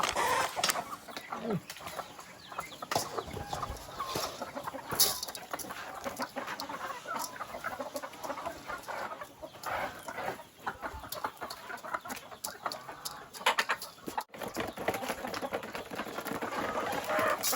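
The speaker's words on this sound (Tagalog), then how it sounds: "Pakainin muna natin yung mga manok." Several chickens cluck and chatter continuously nearby at feeding time, busy and overlapping, with scattered louder squawks and a faint high electrical whine in the background.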